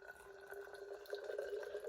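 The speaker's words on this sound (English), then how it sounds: "I'm going to go ahead and put a little distilled water into the sample bottle." Distilled water trickles and splashes quietly into a sample bottle, a soft steady pour with faint rising tone and no talking.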